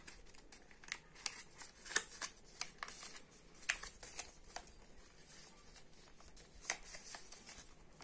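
Sheet paper is folded and creased by hand for a flying bird craft, giving a series of quiet crisp crinkles and sharp snaps at irregular intervals over a faint room hush, with no talk.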